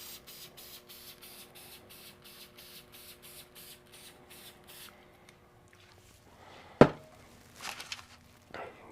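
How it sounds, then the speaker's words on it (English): Sea foam branches being misted for N scale model trees, with a quiet, rapid, steady series of short spray pumps for about five seconds, followed by a sharp knock and some faint handling noises. "and spray it again."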